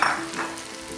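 Oncom and kecombrang stir-fry in a hot pan with a steady close sizzle, and the spatula scrapes and stirs through the food. Nobody speaks.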